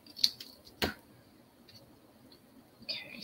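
Paper for a slimline deer card being cut with scissors: a couple of short, crisp snips, the loudest about a second in, then quiet with faint ticks and a last small snip near the end.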